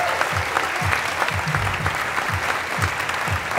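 An audience at a gala applauds a presenter, dense continuous clapping from a large crowd, fairly loud and even throughout with a few low voices beneath.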